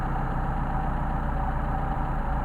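A Mercedes 190SL engine, some twenty years old with a lot of hours on it, idles on Solex carburettors with a steady, close, low rumble and an even pulsing beat throughout.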